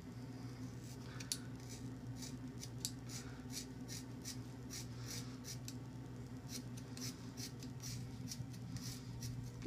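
Scissors snip repeatedly through hair during a home haircut, a steady run of close, crisp cuts over a low background hum with no talking.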